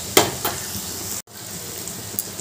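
Onion, tomato and a spoonful of ginger-garlic paste sizzle in hot oil in a pan for a spicy prawn masala, a steady close frying hiss with a few sharper crackles and a brief dropout midway, no talking.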